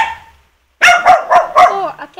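Dogs bark close by in a quick series of four sharp, loud barks after a short pause, with a faint tonal whine trailing at the end.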